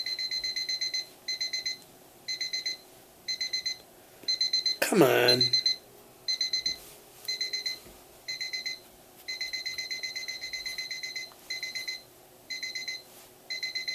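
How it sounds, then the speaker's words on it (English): A beeping alarm clock rings on and on without being switched off, its pulsed high tones repeating in regular bursts while someone speaks briefly and fumbles with it. "it looks like my alarm is beating me here"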